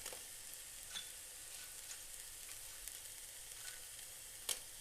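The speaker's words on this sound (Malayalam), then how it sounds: "പച്ചമുളകും, ഉള്ളിയും, വെളുത്തുള്ളിയും, ഇഞ്ചിയും ഇതിട്ടൊന്ന് വഴറ്റിയെടുക്കണം." Green chilies, onion, garlic and ginger sauté in a pan with a soft, steady sizzle and occasional faint stirring clicks, quiet and close, with no voices.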